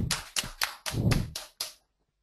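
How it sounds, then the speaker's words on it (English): Short burst of audience applause for a quiz winner in an online class session, a few sharp clapping bursts in quick succession, fairly close, then dropping to silence. "Give a big round of applause for Janvi Bopana"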